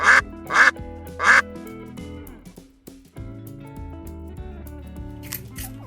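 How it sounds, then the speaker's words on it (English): A duck quacks three times in quick, evenly spaced bursts, loud and close, over soft background music that continues alone afterward. "Duck."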